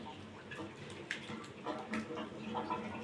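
Faint running water and light splashing as a bowl is rinsed in a home kitchen while a green coriander chicken dish cooks, a soft, uneven trickle over a few seconds.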